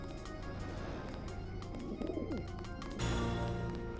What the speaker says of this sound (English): I see a bird. I see pigeons.